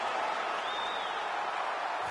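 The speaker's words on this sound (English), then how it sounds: "the crowd voicing its appreciation after that crazy sequence in the previous round" Fight-night crowd at AFL 135 applauding between rounds, a steady wash of clapping and cheering heard from a distance, with a faint whistle rising over the noise.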